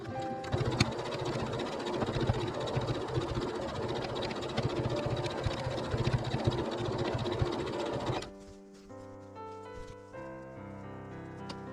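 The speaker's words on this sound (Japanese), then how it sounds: "反対側はもう全部縫っていきます" A sewing machine stitches the side seam of a patchwork hexagon tote bag with rapid, steady mechanical chatter at close range, stopping abruptly after about eight seconds as softer music continues.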